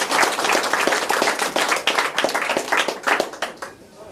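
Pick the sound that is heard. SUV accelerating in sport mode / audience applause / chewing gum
audience applause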